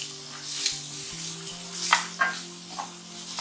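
Grated large onion sautéing in a pan with garlic, ginger and chili for a vegetable kurma masala: steady close sizzle broken by several louder stirring scrapes, with a low hum underneath.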